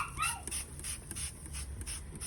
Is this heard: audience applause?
no